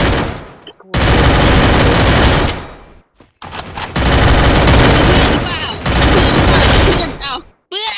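Dense automatic gunfire in the Free Fire mobile shooter: long, loud bursts of rapid shots with short pauses between them, close and harsh, with talk faintly underneath.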